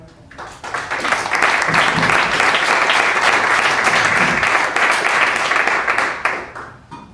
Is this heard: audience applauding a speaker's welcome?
yes